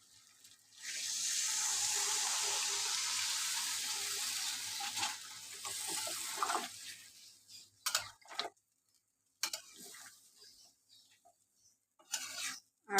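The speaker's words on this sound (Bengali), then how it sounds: "সিদ্ধ করে রেখেছিলাম মটন, সেই জলটা দিয়ে দেবো।" Water saved from boiling mutton is poured into a hot pan and hisses and sizzles loudly for several seconds, then settles into a few faint clinks and stirring sounds.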